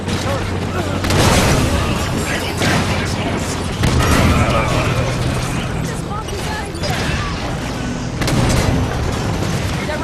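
Gunfire and explosions in the video game Halo 5 Guardians, on Legendary difficulty at Meridian Station, keep up a continuous dense roar with repeated booming blasts, while voices call out over the battle.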